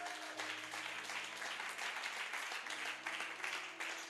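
Audience clapping and applause at a church sermon, steady and moderately distant throughout, with a faint tonal hum beneath.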